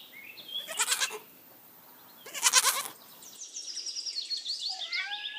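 Two loud, close bleats from a young goat, separated by a pause, followed by high bird chirping in the background.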